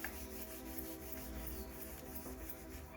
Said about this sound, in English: Put our page on top and we give it a good rub.